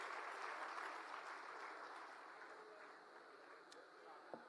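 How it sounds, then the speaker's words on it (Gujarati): Steady applause from a rally crowd greeting a party official, a dense, even patter of clapping at moderate distance that holds for several seconds and slowly eases off. "જોરદાર તાળીઓથી ગોપાલ રાયજીને વધાવીએ."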